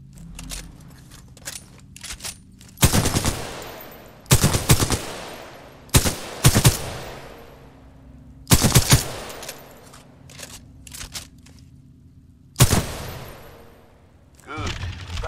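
Gunfire on a shooting range in Titanfall 2: several loud bursts of automatic fire in separate volleys, each a few rapid cracks with a sharp attack and a brief ringing tail, over a low steady background hum.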